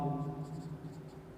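Pen or chalk writing out a math solution for a class, a brief soft scratching under a low background hum.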